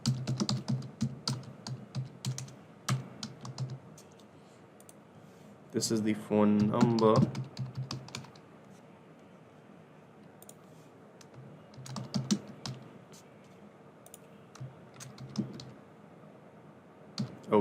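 Rapid keyboard typing clicks on a computer while filling in an online form, arriving in bursts between stretches of quiet, with a voice speaking over part of it.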